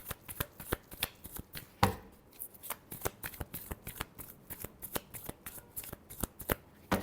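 Tarot cards shuffled in a rapid riffle of crisp, close flicks, with a sharp slap of the deck near the two-second mark and no talk.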